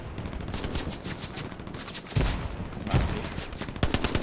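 Rapid machine-gun and rifle fire aimed at the player in the WWII shooter Hell Let Loose, crackling in dense bursts with a few sharp, heavier shots standing out near the end.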